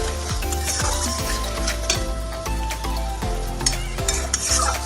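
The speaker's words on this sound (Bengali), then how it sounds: "জিরে আর শুকনো লঙ্কা তেলের উপরে দিয়ে মশলাটাকে সুন্দর করে কষিয়ে নেবো" Masala paste of turmeric, salt, ground cumin, cumin seeds and dried chilli fries in oil, giving a steady close sizzle broken by repeated stirring scrapes, with a faint steady tone running beneath.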